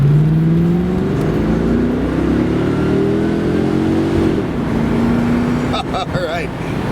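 A 1994 Chevy Corvette, a C4 with 43K miles and traction control switched off, accelerates hard toward 60 mph, its engine note rising steadily and loud for several seconds before a shift, with brief voice at the end.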